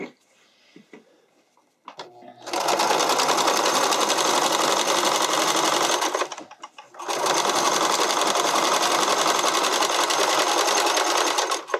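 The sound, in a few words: sewing machine stitching elastic onto spandex fabric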